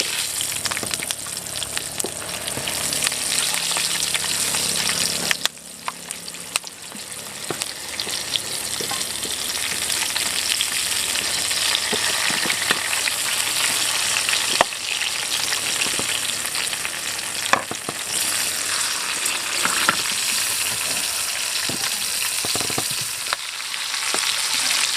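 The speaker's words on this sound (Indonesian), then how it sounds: "Nah kemudian kita langsung goreng untuk bahan sambalnya ya." Sambal ingredients fry in hot oil with a dense, constant sizzle and crackle, loud and close, with occasional stirring clatter and brief pops throughout.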